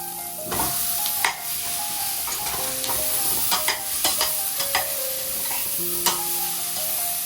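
Mango pieces stirred and fried in a pan: a soft continuous sizzle broken by scraping and clinking strokes of the spoon against the pan, spread across the whole stretch, with no one speaking.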